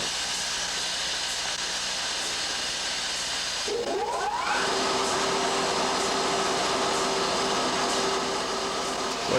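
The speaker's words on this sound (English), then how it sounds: "What you just heard was the startup of the 500 horsepower motor." A 500 horsepower electric motor on a coal pulverizer starts up unloaded, its hum rising in pitch from about four seconds and settling into a steady loud whine over constant broadband industrial roar, with no talk.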